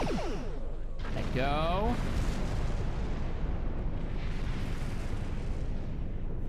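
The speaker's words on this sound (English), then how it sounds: "Something so satisfying about the photon torpedo." Photon torpedo firing in the Star Trek Online space combat game, with a rising, sweeping launch tone followed by a heavy rumbling explosion that lingers. A brief voice speaks near the start.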